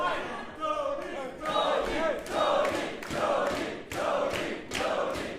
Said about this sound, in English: Apparently, the crowd is cheering onto someone.